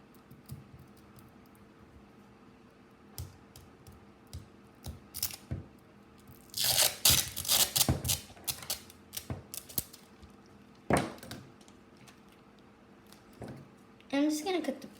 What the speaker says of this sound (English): I'm just gonna cut the piece of tape in the middle so that it's not too big